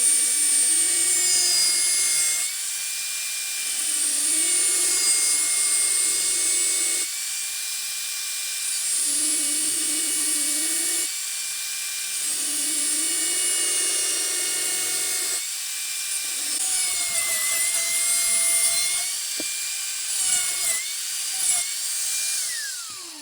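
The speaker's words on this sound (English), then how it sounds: "remove the rivets first and then cut the exhaust down to the right size" A power cutting tool grinds and whines at length through a Yoshimura RS3 motorcycle exhaust, its pitch dipping and rising as the blade bites into the metal, with short pauses between passes.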